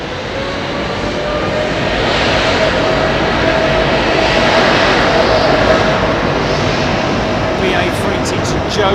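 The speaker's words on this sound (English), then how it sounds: "Qatar 350 just about to touch down right in that shot there" A Qatar Airways Airbus A350 touches down, a steady loud broadband jet roar holding throughout at close range, with a faint whine riding above.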